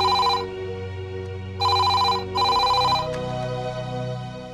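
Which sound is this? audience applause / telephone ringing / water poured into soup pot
telephone ringing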